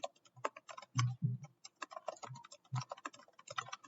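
Quick, close typing on a computer keyboard while writing code, irregular clusters of crisp key clicks with short pauses, fairly quiet and alone.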